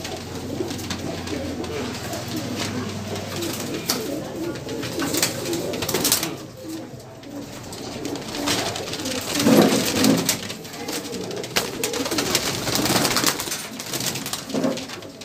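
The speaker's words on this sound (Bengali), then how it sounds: "কত সারানপুরি পায়রা" Saharanpuri pigeons coo close by, their low, throaty calls repeating against a constant rustle of birds and movement.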